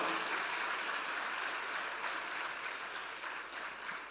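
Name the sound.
audience applause at a rally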